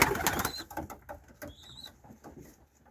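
Pigeons in a backyard loft, birds being treated for trichomoniasis, give soft, faint coos and rustles, with a brief scuffle of wings or movement at the start before it settles into quieter, scattered sounds.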